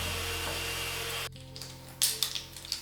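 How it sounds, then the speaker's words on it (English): An electric mixer beats an egg into mashed bananas on low speed, a quiet steady motor hum that cuts off after about a second, followed by a few light clunks. "Add 1 egg to the mashed bananas and beat on low speed just until combined."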